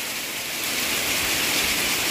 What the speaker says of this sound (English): I've never seen that much hail.